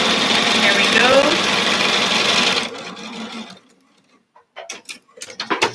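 A sewing machine stitches through paper with a small stitch length, giving a steady, fast, close mechanical whir for a few seconds. It then stops, followed by quiet clicks and brief handling sounds.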